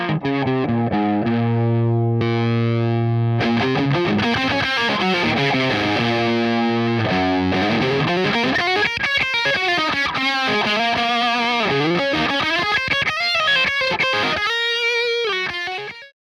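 An orange Boss distortion pedal, a DS-1 relative, drives an already overdriving guitar amplifier, giving a loud, saturated electric guitar that plays sustained chords and then busy, bending lead lines for about sixteen seconds with no talking.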